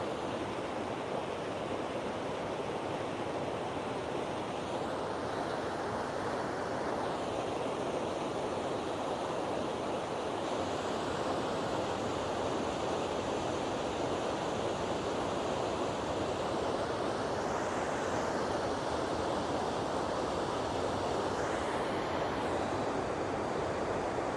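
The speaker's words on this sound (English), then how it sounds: "I'm just going to let you see the river." River at Glen Sligachan on Skye flowing steadily, a constant broad rush of water, fairly close and unbroken, with no voices over it.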